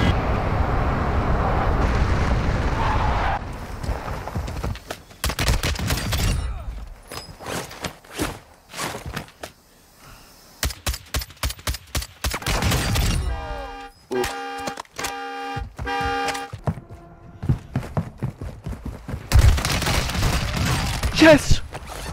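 Artillery barrage in a shooter video game: loud dense explosions at the start, then a long run of sharp rapid bursts and booms, with a tonal electronic pattern in the middle, all close and heavy.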